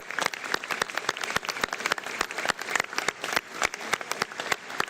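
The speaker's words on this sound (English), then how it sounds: "a big round of applause to you and the 350 workers" Sustained round of applause from an audience honouring a Canadian roofing company and its 350 workers, dense overlapping claps steady and fairly loud throughout, with no talking.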